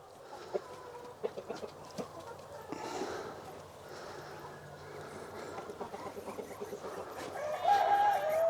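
Chickens cluck and murmur in a coop at dusk as they settle to roost, a steady close chorus of soft clucks and chatter, with a brief higher call near the end.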